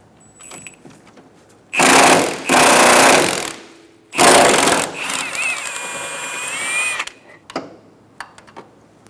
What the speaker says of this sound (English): Remove the two bottom bolts for the motor mount using a 17mm socket